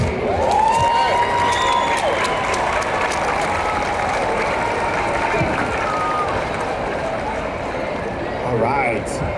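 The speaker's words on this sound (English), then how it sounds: "let's hear a big cheer for all of the people here in Chicago" Large outdoor rally crowd in Chicago cheering and clapping in a steady, loud wash of noise, with scattered whistles and shouts rising above the roar throughout.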